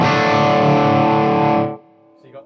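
A thick, distorted electric guitar chord through a Yamaha THR100HD dual amp head with both channels combined rings out loudly and sustains, then cuts off abruptly, leaving a faint tail.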